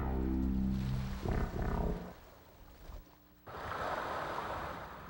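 Ocean waves crash against a rocky coastal shore in loud, rumbling surges, then a broad hissing wash of surf follows after a brief lull, with no voices present.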